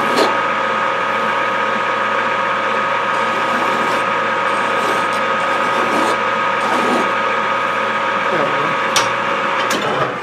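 A file scrapes the burr off a metal part spinning slowly in a lathe, heard as a continuous loud mechanical whir with a steady hum and rasping contact, close up, with a few sharp clicks near the end.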